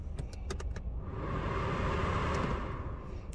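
Blower motor of a Honda Jazz SE Auto car running with a steady, close airy whoosh that swells and holds, preceded by a few quick clicks.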